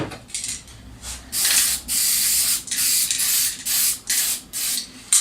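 Lacquer finish is sprayed onto wood in a series of short bursts, each a close, sharp hiss lasting about half a second to a second, separated by brief pauses.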